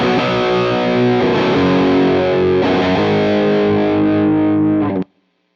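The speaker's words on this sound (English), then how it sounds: "So I'm going to load up the Marshall JMP-1 tube preamplifier that they have in here." Electric guitar through a Marshall JMP-1 tube preamp emulation (Brit Valve Pre) on stock settings, giving thick distorted chords that ring for about five seconds and then cut off abruptly, played alone and loud.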